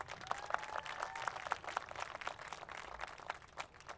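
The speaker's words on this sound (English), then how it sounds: "Give him a round of applause." Audience applause at an outdoor topping-off ceremony for a tennis and learning center, a faint but steady patter of many hands clapping with distinct individual claps standing out.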